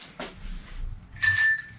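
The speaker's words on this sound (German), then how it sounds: "Klingel läuft." A bicycle bell, just fitted to a bike, gives one bright, close metallic ring about a second long, preceded by a couple of faint clicks.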